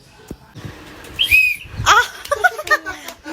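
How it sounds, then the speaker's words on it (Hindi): A young boy whistles up close, with several short airy tries followed by clearer high chirping notes, while adults talk softly around him. "क्या सीटी मार रहा है?"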